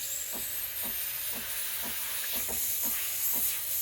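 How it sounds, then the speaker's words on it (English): Steam wand on a Breville Barista Pro BES878 espresso machine, a single boiler model, giving a loud steady hiss that stays continuous and close, with faint rhythmic pulsing beneath it and no talking. "When you turn it on, it'll take like 5 seconds to switch to steam."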